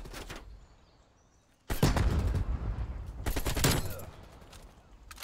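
AK47 fire in Call of Duty: a faint burst, then two loud, close rapid volleys of automatic rifle shots separated by a short pause.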